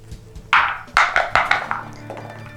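Dice rolled for an attack in the Shadows of Brimstone board game: a sharp clatter followed by several quick bouncing clicks and rattles that taper off, close and fairly loud.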